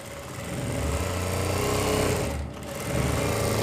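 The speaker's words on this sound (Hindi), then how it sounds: "यहाँ पर एक एक्स्ट्रा सिलाई भी लगा देते हैं" A sewing machine stitches a kurti side seam with a steady, close, loud mechanical whir that dips briefly near the middle before running on again.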